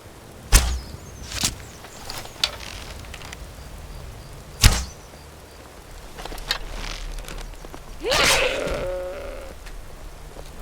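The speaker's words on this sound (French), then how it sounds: "Oh la chèvre." A goat in the video game Skyrim gives one drawn-out, wavering bleat near the end, after a few sharp, snapping impacts earlier on. The sounds are moderately quiet and no one speaks.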